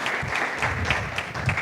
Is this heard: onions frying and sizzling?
no